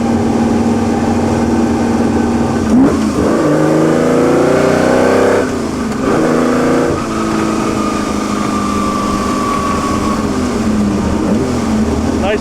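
A Ferrari V12 revs loud and close, its steady roar sweeping up and down through gear changes with a brief dip partway through, continuous from start to finish without any voices.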